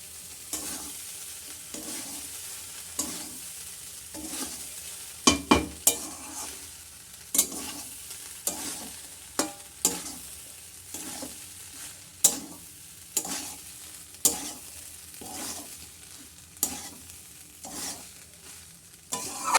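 Plain cooked rice stir-fried in a hot pan at home, with steady sizzling and repeated sharp scrapes and knocks of a spatula against the pan in an uneven rhythm, close and alone with no talk.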